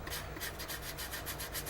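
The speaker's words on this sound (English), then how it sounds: "I'm still using the 180 grit sanding stick" Soft, quiet rubbing strokes of a 180-grit sanding stick on a model kit's seam, a rhythmic back-and-forth rasp close by, with no voices.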